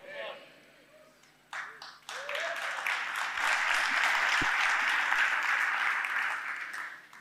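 Church congregation clapping during a sermon, starting sparse and building into sustained, fairly loud applause, with a preacher's voice heard briefly at the start.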